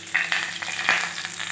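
Garlic sizzles and crackles in a pan over a gas flame while being browned for ridged gourd sabzi, in short, close bursts of frying.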